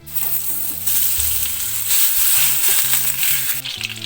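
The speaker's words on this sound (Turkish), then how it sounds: "Tereyağımızı ilave ediyoruz." Butter frying in a pan for Turkish Black Sea muhlama, a loud, steady close sizzle with faint stirring and metallic clinks over a constant hum.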